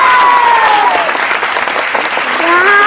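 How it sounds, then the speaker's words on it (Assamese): An audience at a funny party game claps for a contestant, dense loud applause running throughout with a whistle-like tone gliding over it at the start and end. "এটা হাত চাপৰি লাগে"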